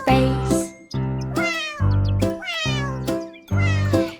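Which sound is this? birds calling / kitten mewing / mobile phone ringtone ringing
kitten mewing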